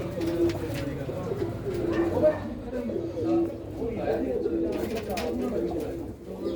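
Pigeons kept by a fancier in Hoshiarpur, Punjab, coo in repeated soft, throaty rolls close by, with people chattering in the background.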